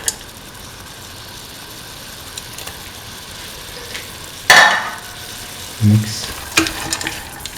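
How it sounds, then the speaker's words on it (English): Green peas being stirred into a beef and coconut milk stew in a pan, with a faint steady sizzle and a few brief scraping stirs and knocks, no voices. "Mix in the green peas."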